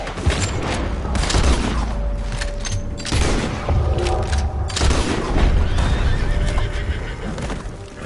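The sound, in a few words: gunfire in video game Red Dead Redemption 2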